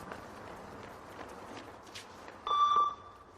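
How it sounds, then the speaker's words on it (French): A loudspeaker emits a single steady electronic beep, loud and clear, timing a shuttle run fitness test over a noisy background of running feet. "Ceux qui n'arrivent pas avant le bip du haut-parleur perdent des points"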